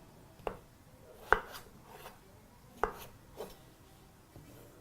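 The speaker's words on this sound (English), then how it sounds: "Slice each wedge into 4 pieces" Potato wedges sliced into pieces with a knife on a cutting board, a few distinct sharp chops spaced apart against a quiet background.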